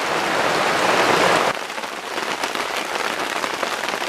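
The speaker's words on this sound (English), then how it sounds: "Rainy afternoon here." Steady rain falls on a forest clearing at an off-grid cabin build site. A heavy, close downpour eases abruptly after the first moment into a lighter, continuous patter.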